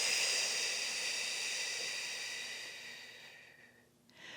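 A long, steady breathy exhale during a pilates exercise, close and fairly loud, slowly fading out over a few seconds before a short new breath begins at the end.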